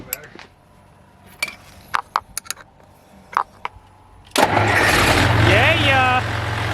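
A newly fitted starter cranks a farm engine, which catches at once and settles into a loud, steady running roar, after a few scattered clanks and knocks while someone talks briefly.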